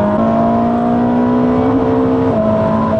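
A tuned 1200 hp Ferrari SF90 accelerates hard on a damp road, its steady, loud engine tone climbing with a shift in pitch near the end.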